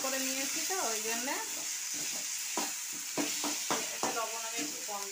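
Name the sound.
spice paste being stirred and fried for fish curry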